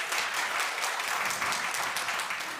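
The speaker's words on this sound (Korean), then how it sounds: "박수로 환영하겠습니다" A church congregation at a Korean worship service applauds to welcome visiting family members, a dense, even clapping from many hands filling the room for a few seconds.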